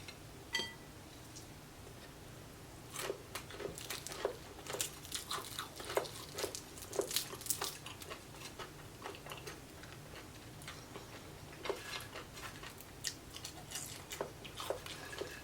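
Extra crispy reheated Popeyes fried chicken is eaten up close in quiet, with scattered crunchy bites and soft chewing over a low steady background hum.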